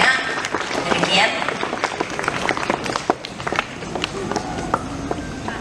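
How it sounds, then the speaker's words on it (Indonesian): Children in an elementary school classroom give a round of applause, a loose patter of many small hands clapping irregularly over several seconds, with voices talking alongside. "Tepuk tangan dulu untuk anak kami"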